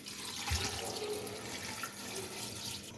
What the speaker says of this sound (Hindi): अब इसमें 2 गिलास पानी डाल दें